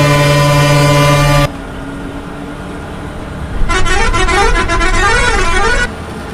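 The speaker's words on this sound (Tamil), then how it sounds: "வண்டி கிளம்பிட்டு பாருங்க." Horn toots from a Tamil Nadu private bus mod in Euro Truck Simulator 2 as it pulls away on a Mannargudi–Thanjavur route, a long steady tone first, then wavering honks over low engine rumble.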